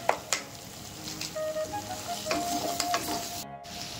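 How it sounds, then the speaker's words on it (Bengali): Spices sizzle steadily in a pan for paneer butter masala while a spoon stirs them, with scraping strokes over a constant close frying hiss and no voices. "আমি মশলার মধ্যে বেল পেপারগুলো সব দিয়ে দিচ্ছি, দিয়ে একটু ফ্রাই করে নেব"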